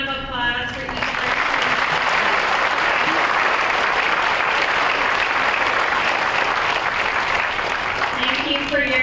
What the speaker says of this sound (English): can we have another round of applause for each person?